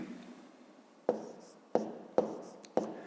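Pen writing numbers on paper while working a fifth-grade subtraction problem, with a soft scratch and four sharp taps spaced about half a second apart, close and quiet, no voice.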